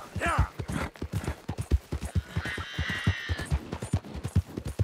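Horse hooves pounding at a gallop in the video game Red Dead Redemption 2, a rapid steady rhythm of thuds running throughout, with a brief high whinny-like sound near the start and a hissing burst midway.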